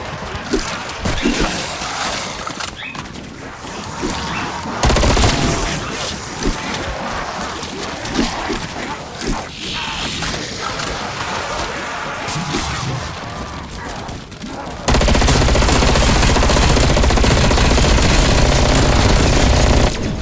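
Rapid automatic gunfire in Call of Duty Black Ops Cold War Zombies, a loud, dense stream of shots with crashes and impacts, intensifying into a constant roaring barrage in the final seconds.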